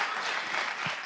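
A brief burst of dense audience clapping on a television talk show, even and moderately loud over about a second with no voices.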